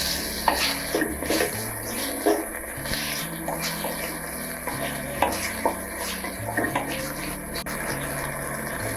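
Finely chopped tomato sautés in a pan for foxtail millet upma, a spatula scraping and tapping at irregular intervals over a soft sizzle and a constant background hum.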